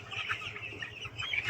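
Chickens on a poultry farm cluck and chatter close by, several birds overlapping in a busy, continuous murmur of short calls.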